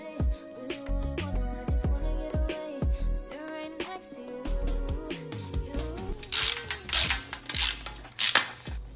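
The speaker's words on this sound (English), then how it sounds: "you're gonna have to tighten that red, tighten the conduit cutter as you're spinning it around" A conduit cutter spins around and bites into conduit pipe for a balloon arch frame, giving irregular ratcheting clicks and metallic scraping squeaks up close, ending in a flurry of sharp grinding rasps.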